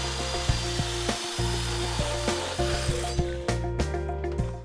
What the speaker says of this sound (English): here I'm measuring it to the board and cutting it with a portable bandsaw